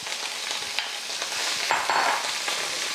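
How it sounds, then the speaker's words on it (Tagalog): Ground beef for beef chow fan sautés in a hot pan, a continuous sizzle broken by scraping stirs and occasional louder hissing flares. "So igisa lang natin itong ating giniling hanggang sa mag golden brown na siya."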